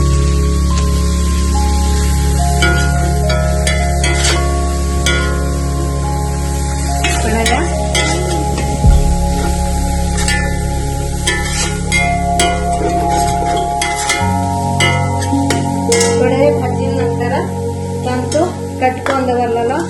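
Steady, loud sizzle of ingredients frying in a pan for paneer biryani, with stirring scrapes and occasional clinks layered over the continuous hiss.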